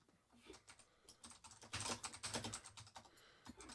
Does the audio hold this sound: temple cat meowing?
no